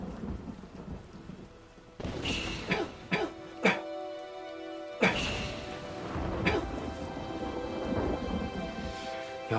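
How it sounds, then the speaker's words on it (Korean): Sudden rain pours down steadily while several sharp thunder cracks and rumbles break through, one loud clap standing out midway, with no voices. "갑자기 비가 오네."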